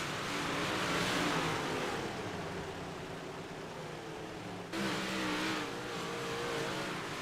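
Several NARC big block race cars battle for sixth place on the Cedar Lake track, their engines a steady, distant droning roar that swells and fades slightly as the pack passes, with no talk.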